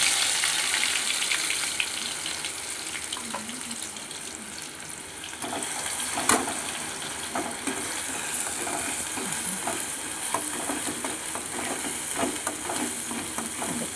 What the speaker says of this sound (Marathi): पहिलं तेल ओतायचं आणि तेलाला मसाला टाकायचा.